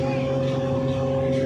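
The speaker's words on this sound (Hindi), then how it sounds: "ये 375 ट्रैक्टर दोस्तों रुई को खींच कर ला रहा है" A 375 tractor engine hauls a load of harvested cotton, producing a loud, steady low drone with a constant harmonic hum throughout, close by and unbroken for the whole stretch.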